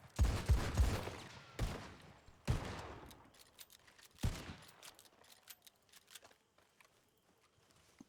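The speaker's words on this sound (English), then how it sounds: "Laying down suppressive fire." Suppressive gunfire in a video game: several sharp, loud shots in quick bursts at the start, followed by quieter scattered distant pops and clatter fading out.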